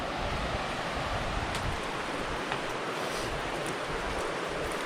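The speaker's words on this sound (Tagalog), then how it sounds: "Ah, ilog sa baba." Steady, broad rushing of a river flowing below, constant and slightly distant, with no voices.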